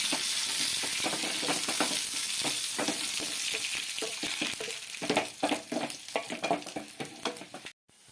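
Onions, chili and curry leaves sizzle and crackle steadily in a hot pan for Kerala-style raw mango pachadi, with stirring scrapes and a brief pause near the end; no voices.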